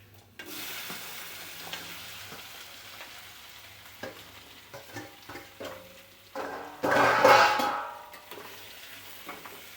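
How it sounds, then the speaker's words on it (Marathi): Pumpkin and tomato frying in oil with onion that has already browned, a sizzle under repeated scraping stirs, swelling into a loud hiss partway through and then easing off. "तेलामध्ये हलवून घेऊ चांगलं."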